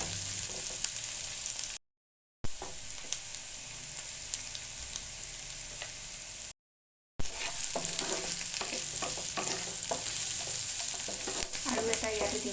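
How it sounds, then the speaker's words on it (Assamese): Macaroni frying and being stirred in a pan, with steady sizzling and scraping of a spoon, continuous and close, briefly broken by two short gaps of silence. "অলপ ফ্ৰাই কৰি লওঁ।"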